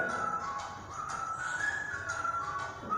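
A steady, thin whistle is pushed up by water vapor escaping a heated vessel, sounding continuously at moderate loudness with faint tapping, and no talk.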